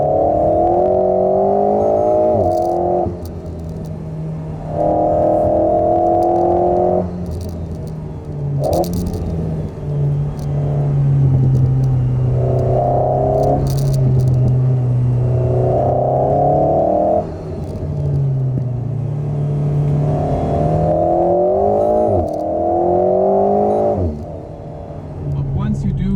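An Alpine A110 S sports car accelerates hard and drifts, its engine revving up and down in repeated loud surges with gear changes, while someone talks steadily over the engine.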